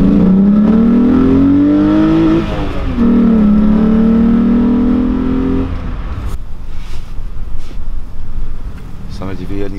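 A VW VR6 cabriolet engine revs loudly in a tunnel, rising in pitch twice, then fades as people talk over the fading rumble.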